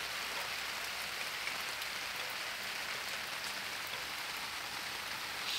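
Steady heavy rain pours outdoors in an even, continuous hiss with no other sounds, close and fairly loud throughout.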